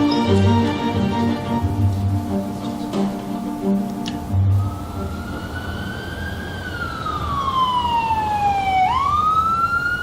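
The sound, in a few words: police car siren escorting ambulance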